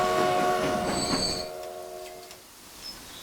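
A train running in the railway simulation game Transport Fever 2 rolls past with a steady rumble, tonal wheel squeal and a brief horn-like tone, fading after the first second and a half to a quiet tail with a faint later click.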